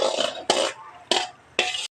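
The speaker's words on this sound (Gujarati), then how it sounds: "એટલે ચાલો મસ્ત મિક્સ કરી દઈએ" Vegetables for pav bhaji are stirred and mixed in a pan, with four distinct close scraping strokes in an uneven rhythm and short quiet gaps between them.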